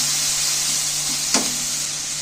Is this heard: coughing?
no